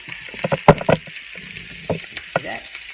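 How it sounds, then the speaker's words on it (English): Pieces of oxtail sizzling in a hot pan, a soft steady frying hiss broken by scattered louder pops and crackles, close by with no talking. "I'm going to let these sizzle."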